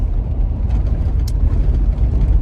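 Car driving on winding Carpathian mountain roads, a loud steady low rumble of engine and tyres heard from inside the cabin, with no talking.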